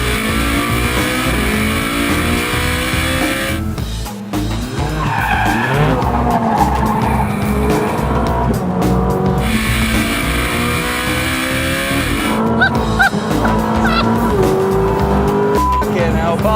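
A Ferrari 458 Speciale's engine screams and revs hard while its tyres skid and squeal loudly, with repeated rising engine pitches and sustained tyre screech close up, and a voice talking over it at times.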